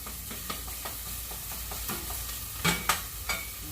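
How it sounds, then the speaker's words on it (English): Onions caramelizing in a pan for spicy keto meatballs, a steady soft sizzle of frying with occasional scraping stir strokes and a few louder clatters near the end, close and without talk. "I am going to just kind of caramelize the onions a little bit."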